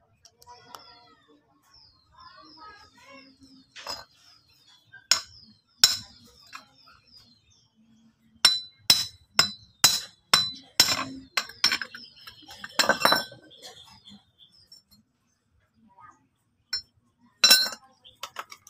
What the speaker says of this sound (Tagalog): Kuha lang tayo ng martilyo. Pitik-pitik lang, alalay lang.